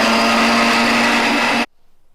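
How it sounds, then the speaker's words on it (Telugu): A kitchen mixer grinder powders mustard seeds, its loud steady motor whine running continuously before cutting off abruptly into near silence. "ఆవాలు అయితే నేను మిక్సీలో పెట్టేసి పొడి చేస్తున్నాను అనమాట."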